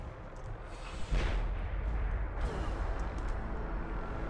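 A deep booming nuclear bomb blast in a video game, Fallout 4, erupts about a second in, followed by a sustained low rumble that rolls on and fades slowly.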